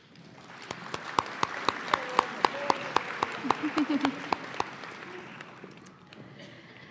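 An audience applauds student athletes at a high school senior awards day, with many sharp claps and a murmuring crowd under the clapping. It fades out toward the end.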